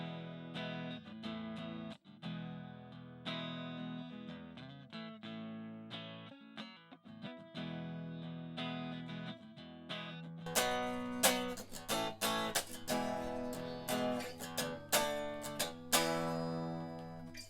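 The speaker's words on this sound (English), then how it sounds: "Next one we're going to look at is the Vox on the clean channel." Electric guitar played through a Vox micro amp on its clean channel, a sequence of picked notes and chords with clear ringing tones, moving into harder, brighter strummed chords in the second half.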